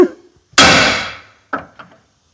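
A hammer strikes a chisel against a wheel bearing on a 2013 Nissan Titan, one loud ringing metallic clang that decays slowly, followed by two lighter taps, close and sharp, with no talking.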